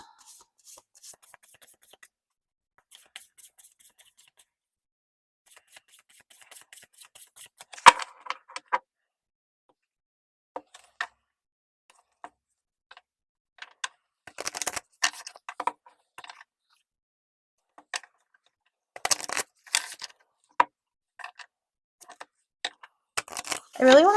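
Tarot cards being shuffled by hand, with soft rustling, riffling and tapping bursts that come and go, louder in clusters toward the end, amid quiet handling sounds.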